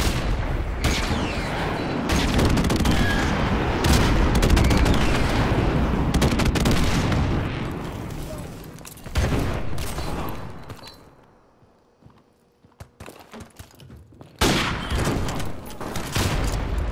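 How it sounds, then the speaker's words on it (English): Dense video-game battle din of gunfire volleys and heavy airstrike explosions, loud and sustained, thinning to a lull before another burst of firing, with no talk. "Friendly airstrike on the way."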